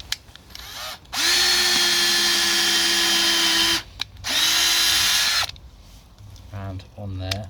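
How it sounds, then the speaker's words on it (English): A power drill boring pilot holes into a wooden planter box: two long, loud high-pitched whirring bursts with brief pauses between, followed by quieter handling noises and a short spin-down. "then drill your pilot holes"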